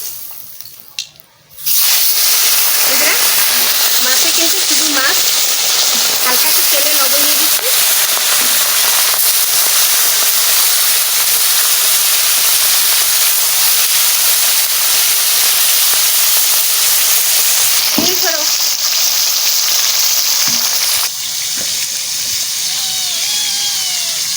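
Tilapia fish, salted and dropped into hot oil, sets off a loud, sudden sizzle that holds as a dense, steady crackling hiss for about twenty seconds, with scattered pops and a brief dip near the end.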